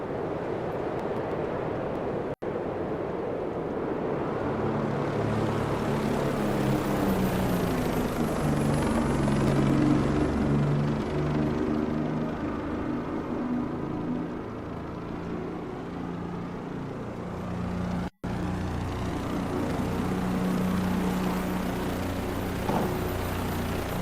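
A helicopter's rotor and engine drone loudly and continuously in the Microsoft Flight Simulator 2024 game, a steady whirring hum with a slowly shifting pitch and no talking.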